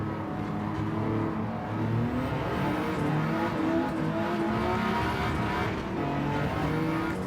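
A race car in Gran Turismo 7 drones loudly and steadily throughout, a continuous engine roar with shifting harmonic tones as it revs and runs, with no talking over it.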